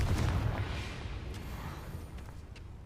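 Confringo spell explosions in the Hogwarts Legacy video game, a low rumbling boom that fades into a sustained roar of debris and noise, moderately loud throughout.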